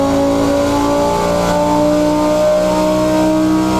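Stock Audi R8 facelift V10 engine revving hard on a dyno run, a loud sustained mechanical roar with rising harmonic tones throughout, no talking.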